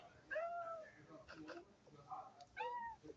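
A house cat meows several times, rising and falling cries at close range, quiet and clear, with a person talking softly between the meows.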